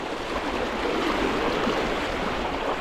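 The strong current of a deep river rushes in a dense, steady roar of churning water, heard close and continuous with no talking.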